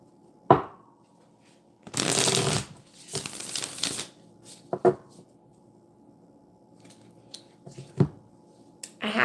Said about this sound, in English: I can't shuffle these cards because they're so big, like the whole deck at one time